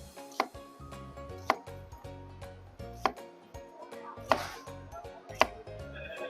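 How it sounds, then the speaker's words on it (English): Sharp knife cutting across an onion on a board, five crisp, evenly spaced chops close up with quiet pauses between them. "And now, the sharp knife, we cut across."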